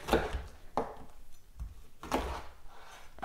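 A knife chopping through pineapple in a home kitchen while preparing fruit for pineapple wine: several spaced, dull cutting thuds against a board, fairly close and moderately loud, with quiet pauses between strokes.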